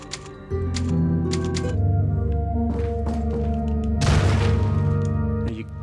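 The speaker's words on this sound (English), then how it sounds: "Let's use the typewriter." A typewriter save point in the video game Resident Evil 4, a few quick clacking key strikes at the start, then sustained game music and ambient tones with a swelling whoosh near the end.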